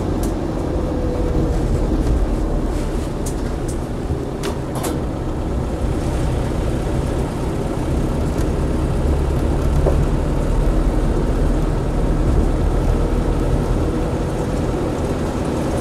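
A Land Rover Defender 90 with a 200TDi diesel engine drives along, its deep, steady engine drone and road rumble continuous from inside the vehicle, with a few faint knocks early on.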